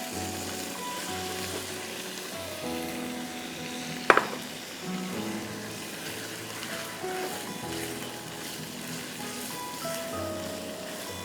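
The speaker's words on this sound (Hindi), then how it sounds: "अब इसमें हम डाल रहे हैं 400 ग्राम चिकन, छोटे क्यूब्स, 1/2 इंच क्यूब्स।" Half-inch cubes of chicken, 400 grams, frying in a pan with onion and garlic give a steady, soft sizzle throughout, broken by one sharp clack of a utensil partway through.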